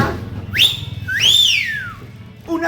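A person whistles in a huayno song with harp accompaniment: two bright, close, sliding phrases, the second rising and then gliding down, over faint background music.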